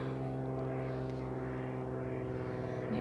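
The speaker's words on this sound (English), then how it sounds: "If you can hear that plane going overhead." An airplane passes overhead, a steady low droning engine hum that holds throughout at a moderate distance, with no talking.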